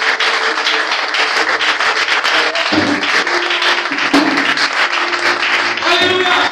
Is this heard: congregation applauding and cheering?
yes